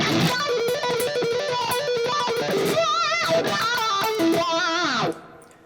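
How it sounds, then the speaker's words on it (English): An electric guitar lick with a wah pedal sweeps through fast runs of notes, the tone swelling and quacking, loud and continuous before stopping abruptly. "We add in a wah pedal, can sound really cool"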